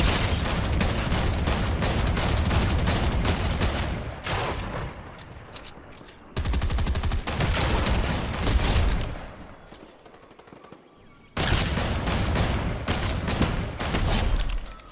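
Rapid, sustained gunfire from the video game Fortnite, loud and close, comes in long bursts with short pauses between them and brief quieter gaps of lighter shooting.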